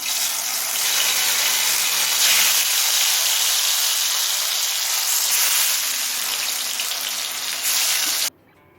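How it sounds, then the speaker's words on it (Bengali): Stuffed pointed gourds frying in hot oil in a Bengali kitchen, a steady loud sizzle running continuously with no talk, cutting off abruptly at the end. "এবার একই রকমভাবে বাকি পটলগুলোও ভেজে নেবো"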